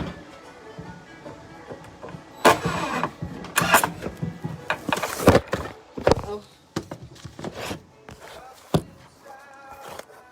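A power drill bores into a 1-inch piece of hardwood for a pallet spice rack, with uneven bursts of motor whine and grinding that start and stop, and a voice speaking at times.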